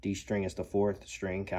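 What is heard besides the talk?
No everyday noises stand out.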